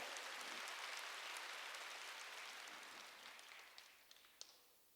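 Church congregation applauding during a Sunday worship service, a broad wash of many hands clapping at once that slowly thins and fades, with a few louder individual claps near the end.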